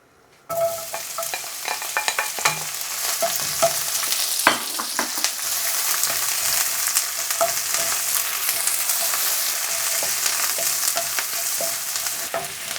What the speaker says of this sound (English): We're going to put our half sliced onion into here. Wait for the sizzle.